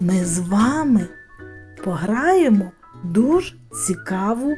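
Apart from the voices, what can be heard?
No everyday noise stands out behind the speech.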